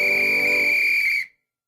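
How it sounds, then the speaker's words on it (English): A single whistle blown in one steady, shrill, sustained tone, close and fairly loud, cutting off abruptly after about a second. "me and Dolly would blow whistles with the best of them."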